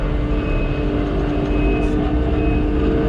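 Kubota SVL90-2 compact track loader fitted with a Harley rake, driving on a lawn install site: a steady, loud low engine drone with a faint constant whine, continuous and unbroken throughout.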